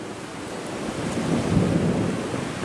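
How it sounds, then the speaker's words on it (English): Thunder rumbling over a lake under building wind, with whitecap waves, a low swelling roar that rises toward the middle, mixed with steady wind noise and wash, no voices. "You can hear the thunder."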